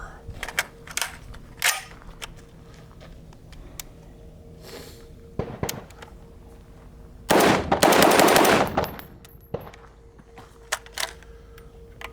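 A SCAR rifle on a shooting range fires a handful of sharp shots spaced over several seconds, with one tight burst of rapid fire in the middle, loud and close.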